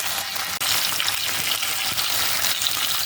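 Tomatoes sizzle loudly in hot oil in a pan for an okra (vendaikkai) kuzhambu, a steady, dense crackle throughout with a faint stirring scrape and no talk.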